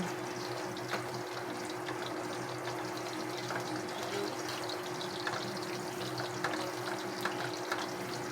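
Onions frying in a pan while being stirred until brown, a faint, steady sizzle with soft scraping stir sounds, no talking.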